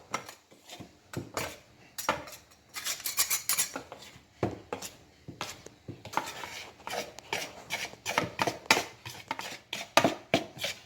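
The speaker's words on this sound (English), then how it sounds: "I'm trying with a potato masher, because I don't have any idea how to cut butter when it's inside a whole bowl full of flour" A potato masher cuts butter into flour in a bowl, giving repeated scraping, rubbing and clinking strokes against the bowl in an irregular rhythm, close and fairly quiet.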